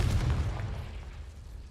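A Confringo blasting-spell explosion in the Hogwarts Legacy video game, a single heavy, rumbling boom that starts loud and fades over a second and a half, heard alone.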